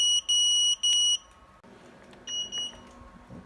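A small buzzer mounted on a drone frame gives two sharp, loud beeps close up, followed by quieter, fainter chirps amid light handling noise.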